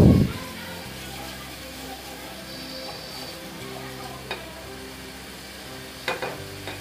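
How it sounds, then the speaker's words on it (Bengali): Winter vegetables frying on medium heat in a pan, a steady soft sizzle after an initial loud burst, with a couple of faint stirring clinks near the end. "এবার মিডিয়াম আঁচে আমি ভেজে নিচ্ছি।"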